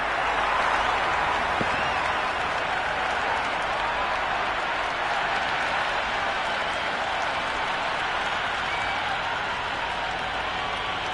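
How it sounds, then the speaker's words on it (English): A large crowd at an England vs Scotland T20 World Cup cricket match roars and applauds steadily throughout, a dense, loud wash of cheering and clapping with no pauses. "Will you listen to that crowd? They are loving this."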